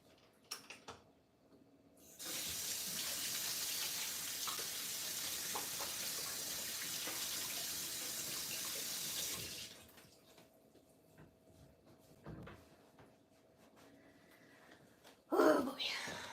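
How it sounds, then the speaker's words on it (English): Tap water runs steadily for about seven seconds while hands are washed under it. The flow starts and stops abruptly, and quiet talking and small handling noises come before and after. "Let's wash my hands again."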